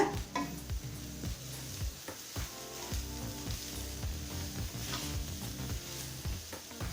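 Brinjal rice with basmati rice and coriander being mixed in a hot pan, rhythmic repeated scraping and clattering strokes of a spoon against metal over a soft sizzle, close and fairly loud.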